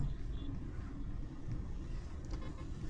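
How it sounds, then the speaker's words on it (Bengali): A car drives along an empty city road near Bijoy Sarani in Dhaka, its steady rumble of engine and road noise heard from inside, with a faint voice in the background. "তাই গাড়ির গতিও বাড়িয়ে দিলাম"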